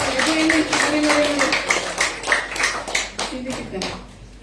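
Hands clapping in a rhythmic pattern during a church Easter service, with people talking and singing over it throughout.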